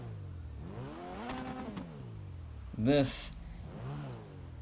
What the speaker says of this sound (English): I'm revving it.